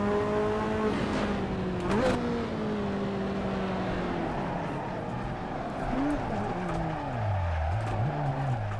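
Ferrari F40 in the Assetto Corsa racing game, its engine revving loudly with a sharp pitch jump at a botched gear change, then falling and stumbling through uneven revs, steady and close throughout.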